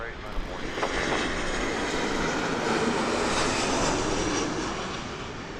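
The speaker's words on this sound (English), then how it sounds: "We have a Southwest flight coming in hot right now." Southwest Airlines Boeing 737 jet coming in to land at Las Vegas Harry Reid International Airport, a steady loud engine roar lasting throughout with a voice talking over it.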